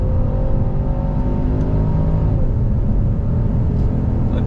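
A 2022 Genesis GV70 sport SUV accelerating hard on throttle, its engine droning loud and steady from inside the cabin with a rising whir and rumble, no talking.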